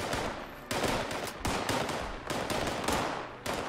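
Repeated gunfire in the video game Fallout 76, a series of loud, sharp shots and bursts at irregular intervals with no voices.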